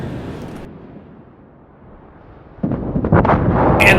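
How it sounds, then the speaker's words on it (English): A warship's gun salvo in a naval battle game, a short deep boom rising abruptly into rumbling blasts near the end, loud and close after a quieter stretch of low wind-like noise. "Incoming salvo in."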